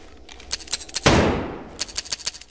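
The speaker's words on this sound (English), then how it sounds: "Let's shoot some stuff!" Gunfire in the sandbox video game Garry's Mod: rapid bursts of automatic shots with one heavy, booming blast in the middle, loud and close, and no voices.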